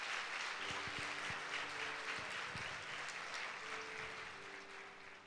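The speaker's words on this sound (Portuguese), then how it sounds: "Dá um aplauso ao Senhor Jesus." A church congregation applauds during a Sunday service, a steady broad wash of clapping held at an even level for several seconds with a low sustained musical tone underneath.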